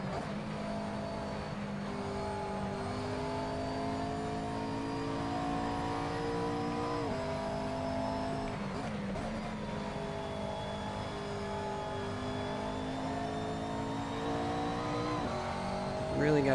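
A race car engine in a sim racing video game revs and drops through the gears, a sustained droning whine rising and falling under the driver's occasional voice.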